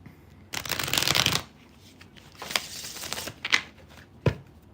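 A loud, close riffle of tarot cards being shuffled, followed by softer taps and a few crisp card slaps as the deck is squared.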